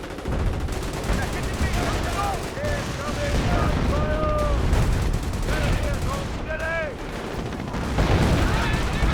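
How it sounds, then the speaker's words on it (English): Battle sounds from the strategy game Company of Heroes, with sniper shots and other gunfire cracking in a dense mix with loud explosions and rumbling, while someone talks over the action throughout. "Wehrmacht sniper fires some shots there"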